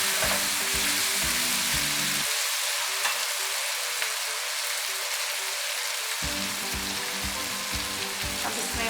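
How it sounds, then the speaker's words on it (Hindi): Pulao ingredients frying and being stirred in a pot, a dense continuous sizzle with scraping stir strokes at the start and end and a smoother hiss in between, close and steady with no talk. "एक 2 मिनट बस इसको भूनना है"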